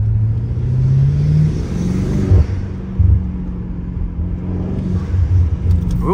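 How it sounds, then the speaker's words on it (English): A BMW M8 Competition, rear-wheel drive, accelerating hard in traffic: a loud, close engine roar that rises in pitch through the gears, with brief dips between shifts. "Rear-wheel drive takes a little longer for it to start get going."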